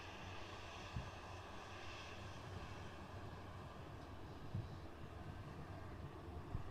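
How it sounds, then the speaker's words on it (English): A steady, distant jet roar from a Ryanair Boeing 737-800 airliner at Manchester Airport, a continuous even rumble with a few faint thumps and no talking. "In front of us now, the Ryanair Boeing 737-800."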